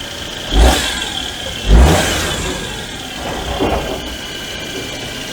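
A Daewoo Matiz small car engine running after a belt replacement, revved twice in quick blips that settle back to a slightly noisy idle, then a softer third rev, heard up close.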